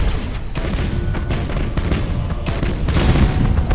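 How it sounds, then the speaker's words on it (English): Torpedoes fire and explode in the Battlefleet Gothic: Armada space battle game, a dense barrage of deep booms and thuds rumbling continuously with repeated heavier impacts. "Fire the torpedoes in that direction."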